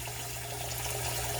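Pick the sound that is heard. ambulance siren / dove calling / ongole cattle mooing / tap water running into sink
tap water running into sink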